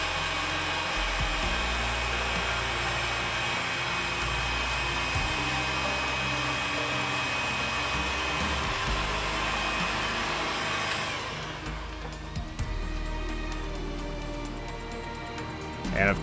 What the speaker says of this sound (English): Also heat shrinking each connection.